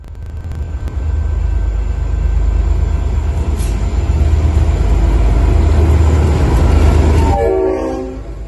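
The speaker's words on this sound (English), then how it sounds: "This is a scene that my friend recorded in January 2024, with N458 hauling some H-set coaches through Moonee Ponds." Locomotive N458 hauling H-set passenger coaches through Moonee Ponds, a loud continuous rumble of engine and rolling wheels close by, with a horn note near the end.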